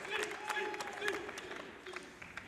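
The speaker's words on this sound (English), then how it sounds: "Let's give him a round of applause, huh?" Audience applause for a congressman guest at a high school football game-day broadcast, a short burst of scattered claps that fades within a couple of seconds, fairly faint and mixed with crowd murmur.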